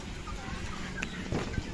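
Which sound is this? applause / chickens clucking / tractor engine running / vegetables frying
chickens clucking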